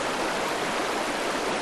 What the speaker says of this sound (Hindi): झरने की गूंज फिर से सुनाई दी